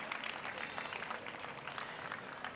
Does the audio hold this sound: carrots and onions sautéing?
no